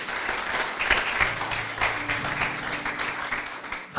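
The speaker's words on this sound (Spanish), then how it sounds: "¿Se anima a darle un aplauso a Jesús?" A church congregation gives a full, sustained round of applause, a thick wash of many hands clapping with a low hum beneath, ending abruptly.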